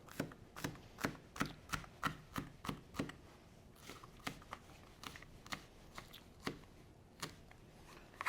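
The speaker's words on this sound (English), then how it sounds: "Cut it again so that you don't have big chunks in your salad." Knife chopping eggless egg salad ingredients on a board, a steady run of sharp, evenly spaced taps at first, then sparser, quieter cuts after a brief pause; no talking.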